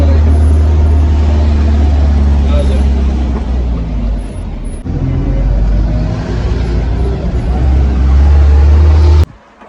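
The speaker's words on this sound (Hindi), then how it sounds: "गाड़ी आती है तो गाड़ी में बैठते हैं और फिर आगे चलते हैं।" A shuttle vehicle in Iraq during Arbaeen pulls up and drives on, a loud, close, steady low engine drone with road noise that dips briefly midway before cutting off, while people talk over it.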